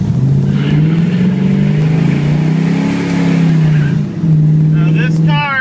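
A 1968 Chevrolet Chevelle SS 396 drives with a deep, loud, close engine drone that rises and falls through gears, a voice briefly audible near the end.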